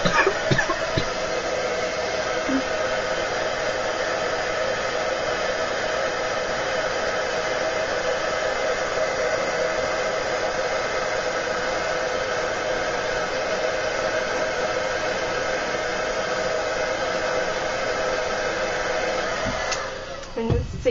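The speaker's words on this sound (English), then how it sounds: "I'm going to use the heat tool, so it's going to be a bit noisy again. And you just heat it up until it goes to liquid" An embossing heat tool blows a steady, loud whoosh of hot air as it melts embossing powder on a chipboard piece, running continuously for about twenty seconds before cutting off.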